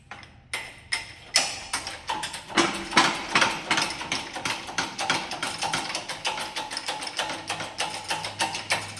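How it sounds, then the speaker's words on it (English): Repeated metal hammer blows knock a wheel bearing out of a 2004 Honda Civic LX, sharp close strikes landing in a steady rhythm, some faster bursts, with a faint hum underneath. "We'll knock it the rest of the way out with a hammer."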